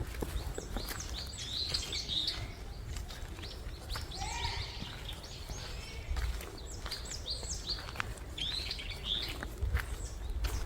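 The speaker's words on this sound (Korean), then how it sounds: "새소리가 너무 듣기 좋으네" Birds chirp and tweet repeatedly at a moderate distance in a forest, bright calls scattered over a soft outdoor rumble.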